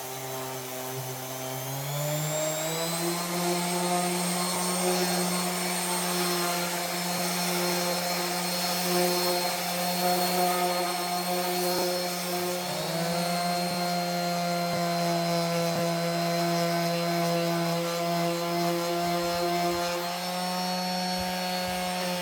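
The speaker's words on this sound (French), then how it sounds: "c'est parti pour le ponçage complet" A power sander works over the body kit on a Nissan 100NX, a steady, loud whining drone that holds for over twenty seconds with a slight pitch rise early on and continuous abrasive hiss, no voices.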